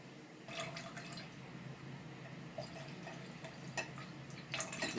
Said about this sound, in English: We're going to add in some more cold water.